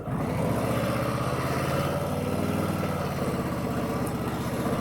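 A 2024 Harley-Davidson Softail Standard with a 107 engine rumbles along on a ride, its deep, pulsing V-twin throb steady and loud with wind rush and no speech.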